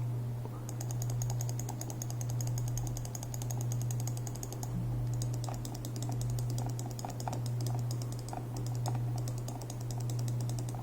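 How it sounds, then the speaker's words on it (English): Mouse buttons with mechanical switches on a Razer DeathAdder Elite, clicked in quick repeated bursts. The crisp clicks sound close, with a steady low hum underneath. "this is the sound of the clicks of the Elite"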